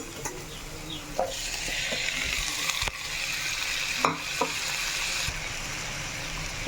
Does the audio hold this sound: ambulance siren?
no